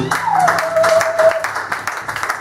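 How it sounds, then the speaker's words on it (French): A church congregation claps to acclaim God. A dense burst of hand claps lasts about two seconds, with a faint voice and a thin tone in the background. "Acclamer la présence de Dieu."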